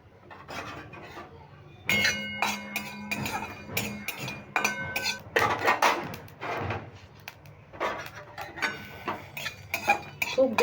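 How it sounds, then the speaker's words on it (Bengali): Fennel seeds and cardamom seeds are dry roasted in a wok, heard as a series of close, irregular metallic clinks and scrapes from stirring against the pan, starting after a quiet opening and continuing without talk. "এবার কড়াইতে আমি নেড়ে ভেজে নেবো"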